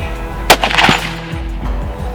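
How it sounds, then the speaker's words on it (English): A rifle shot cracks once, sharp and loud, at an outdoor shooting range in Marble Falls, Texas during rifle sighting-in. A brief rumbling echo follows, then low outdoor background noise. "we're gonna go sight in rifles and make sure that everything's good to go before our morning hunt"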